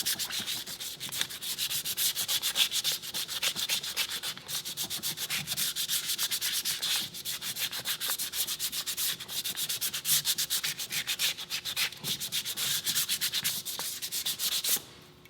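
Steady abrasive sanding of a prosthetic socket around the proximal trim line, roughing the surface in a continuous rasping scrape that stays loud and close for about fifteen seconds before stopping abruptly.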